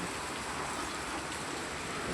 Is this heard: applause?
no